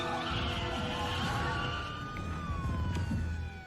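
A police car siren approaching, its wailing tone rising and falling continuously over a loud rumble of traffic or engine noise for a few seconds.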